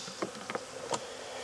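Honey bees buzz at a hive while working on comb, a steady hum with a few louder passes as individual bees fly close, no voices over it.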